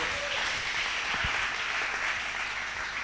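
A church congregation applauding and cheering during worship, a steady wash of clapping and crowd noise held at moderate distance for the whole stretch.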